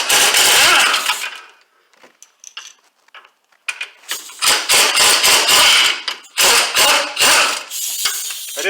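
Ratcheting mechanical clicks and bursts of tool noise while removing a brake caliper bracket on a 2009 Kia Borrego, close and loud, in irregular bursts separated by short pauses.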